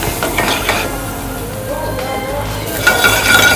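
Pan-seared salmon and sautéed vegetables cooking with garlic and butter, giving a moderate sizzle with stirring and light utensil clinks against the pan, close by.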